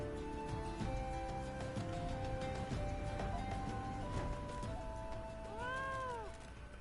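A cat meows in the Final Fantasy XIV video game, a few rising-and-falling calls near the end over a steady bed of game music and ambient tones.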